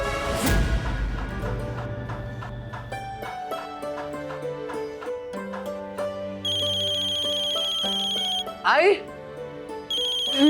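An electronic phone ringtone plays a repeating melodic tune, loud and close, while people talk over it.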